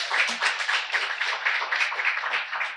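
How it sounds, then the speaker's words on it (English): Audience clapping at a She's4Sports women in sports and tech event, a steady patter of many hands at moderate loudness with no talk over it. "I think we should give you a round of applause for that."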